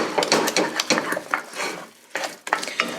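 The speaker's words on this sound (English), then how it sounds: "So give this a really good stir." Cheese souffle base stirred in a pan: close, brisk scraping and knocking of a utensil against the metal in uneven strokes, with a brief lull and no talking.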